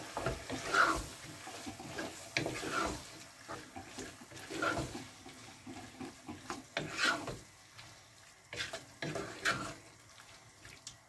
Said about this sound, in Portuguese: Vamos envolver bem e deixar fritar um pouco.